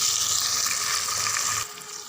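Water drained from boiled vegetables is poured into a hot pan of cumin, ginger paste and green chilli, causing a loud rushing sizzle that drops suddenly to a softer simmer.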